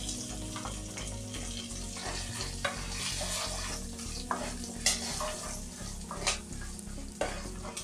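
Turmeric and curry leaves are stirred in hot oil for a puffed-rice mixture, a soft continuous sizzle under repeated scraping and clinking spatula strokes against the pan, close and fairly quiet.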